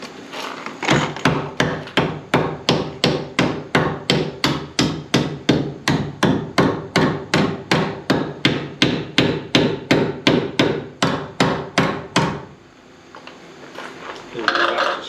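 Rapid, evenly spaced hammer blows drive screws into wood while stairs are rebuilt in an 1860s cottage, about two strikes a second, loud and close, stopping abruptly near the end.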